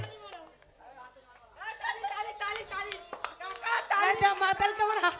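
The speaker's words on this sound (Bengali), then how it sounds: "মাতাল কেমন হাততালি মারছে" An audience at a village stage show breaks into clapping, a scattered patter that builds into denser applause, mixed with a voice and crowd chatter.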